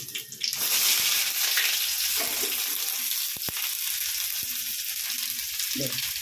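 Onions dropped into hot oil with popped mustard seeds and dal give a loud, steady hiss and sizzle, with occasional stirring clicks over the continuous frying.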